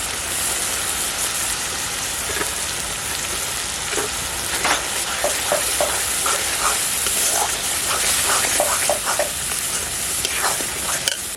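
Spice masala of cumin, coriander and Kashmiri chili powder sautés loudly in a pan with a splash of water for a spicy meat curry, giving a steady close sizzle overlaid by repeated scraping stirs that grow busier toward the end.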